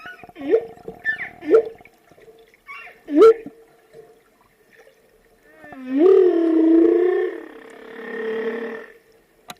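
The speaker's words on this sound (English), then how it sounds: "males sing, and their songs are incredibly complex" A humpback whale sings underwater: several short moans and grunts are followed by a long, loud, rising and wavering tonal call, then a softer trailing note against a quiet background.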